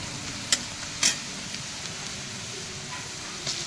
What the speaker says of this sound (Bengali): প্রথমে পেঁয়াজটাকে দিয়ে একটু লাল করে ভেজে নেব। যতক্ষণ না লাল করে ভাজা হচ্ছে আমি নাড়তে থাকবো।